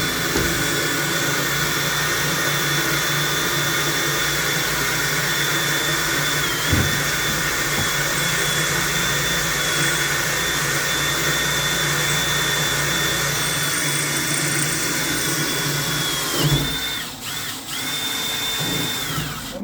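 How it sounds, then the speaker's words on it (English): A vacuum cleaner runs aboard a boat during plumbing work on a calorifier, a steady loud whine and roar holding throughout with a brief dip and change near the end; no talking. "I'll just get in there with the Vacuum,"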